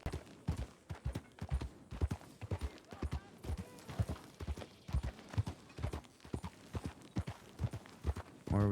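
Horse hooves clip-clopping at a steady walking rhythm in a RedM roleplay game set in the Old West, fairly close and continuous, with a brief snort or whinny near the end and no talk.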